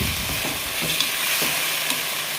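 Chicken pieces frying in hot oil with a little water added give a continuous bright sizzle, steady and close, with faint stirring clicks and no speech.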